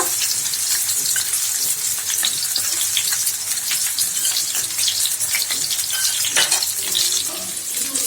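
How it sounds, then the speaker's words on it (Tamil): Karimeen fish frying in oil over a slow fire for meen pollichathu, giving a steady, continuous sizzle and crackle close by, with no pauses and no talking. "மீனை நம்ம ஃப்ரை பண்ணிடலாம். ஸ்லோ ஃபயர்ல வச்சிருக்கேன்."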